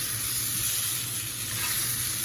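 Shrimp, onion and hot peppers frying in a pan, a steady close hiss of sizzling oil with no pauses and no voices.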